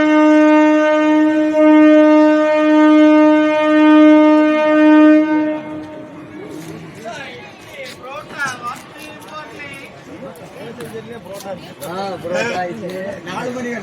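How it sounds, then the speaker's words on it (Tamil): A Vande Bharat express train sounds a loud, sustained horn in two long blasts as it approaches Uthamar Kovil railway station, then roars past with rushing wheel and wind noise while people nearby talk. "வந்தே பாரத் வருது சார். ட்ரெயின் வருது, ஓரமா போங்க சார்."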